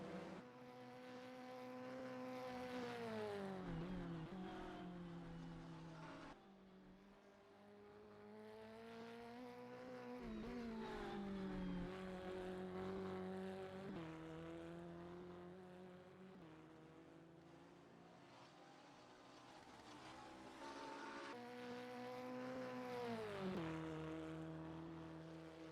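A P1 prototype race car engine screams through the gears in rFactor 2 during the Sebring 12h prelude, rising revs and sharp downshifts repeating around the corners, loud and close with no talk.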